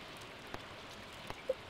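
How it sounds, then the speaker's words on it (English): Soft, steady patter of rain falling in the Stardew Valley video game, a quiet even hiss with a few faint drop ticks and no talking. "And today it is raining."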